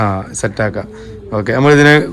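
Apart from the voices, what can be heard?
No distinct noise like a dog, phone or traffic.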